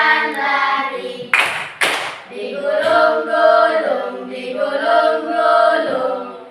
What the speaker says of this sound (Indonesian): Buka tutup, bertepuk tangan.